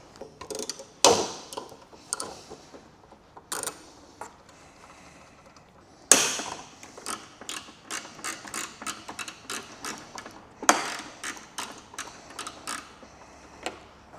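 Bolts being worked loose with a 3/16 Allen key on a gauge relocation kit, giving sharp metallic clicks and ratcheting ticks at irregular intervals, close up, with a few louder clanks.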